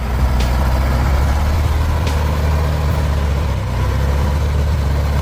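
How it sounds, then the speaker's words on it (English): A truck stuck in mud churns with a loud, constant low engine roar and steady grinding rumble, close and unbroken, with no one talking. "the engine roared hoarsely"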